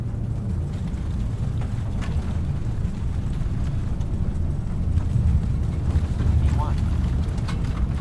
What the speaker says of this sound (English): we're going to release the parking brake, and we're going to take off